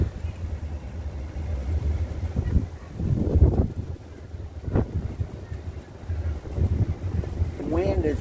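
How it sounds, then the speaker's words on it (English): Strong wind buffets the microphone as a storm approaches near a funnel cloud in Huntington, West Virginia, a low gusty rumble with brief bursts of speech over it. "Wind is definitely picking up."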